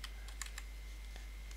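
Computer keyboard keys pressed a few at a time in irregular, light taps, close and quiet over a steady low hum, with no talking.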